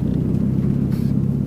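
A Mitsubishi Evo 4 engine gives a loud, steady low rumble for a brief moment, heard close and alone without talk.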